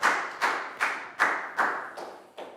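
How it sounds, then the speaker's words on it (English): A small class claps for a student in a Year 4 maths lesson, about six short bursts of clapping in a steady rhythm, each fading before the next, close and fairly loud with no talk. "And round of applause for Preo."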